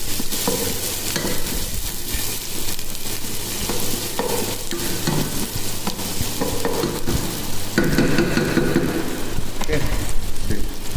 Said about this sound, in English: So I put already onion, and now we have to saute proper